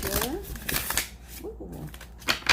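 Tarot cards riffle and flutter in quick bursts close by, with a voice speaking softly between shuffles.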